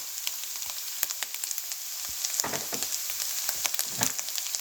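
Salt, oregano and paprika frying in a pan for homemade nachos, a steady soft sizzle with scattered crackles and pops, close and fairly quiet, no voices.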